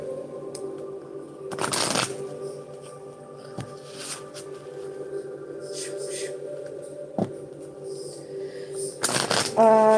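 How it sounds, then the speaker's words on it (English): Tarot deck being shuffled by hand, soft riffling bursts near the start and again at the end, quiet and close, over a faint steady hum. "Two more shuffles, and then we're going to draw some cards"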